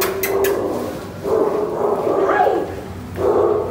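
A shelter dog barks inside a kennel at the Kennebec Valley Humane Society, giving several short, loud, nearby bursts of barking and yipping with brief pauses between them in an echoing indoor space.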